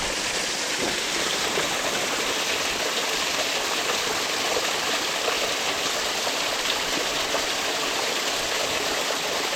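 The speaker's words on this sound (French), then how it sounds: "Il y a du débit, mais ça se remplit pas si vite que ça." Spring water flows steadily into a bottle being filled outdoors, heard as a constant close rushing and splashing stream that stays even in level throughout, with no talk.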